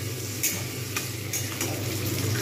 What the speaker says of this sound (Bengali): একটু ভাজা হয়ে গেলে এপিট ওপিট করে একটু সুন্দর করে ভেজে নেব।